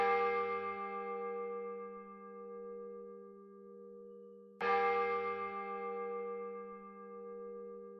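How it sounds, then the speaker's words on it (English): Two bell strikes about four and a half seconds apart, each a clear resonant ring with a long decaying tail, quiet and alone. "There's too many bells."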